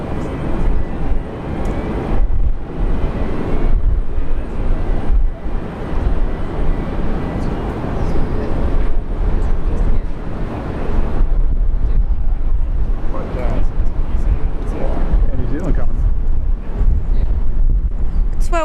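A United airliner departs Brisbane International Airport for San Francisco during a severe storm, producing a loud, steady jet roar heavy with wind noise that runs continuously throughout.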